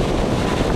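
Wind near Multnomah Falls buffets the microphone in a continuous low roar, loud and close for under a second.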